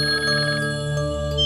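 A telephone rings loudly and steadily with an electronic tone, filling the whole moment with no voices over it.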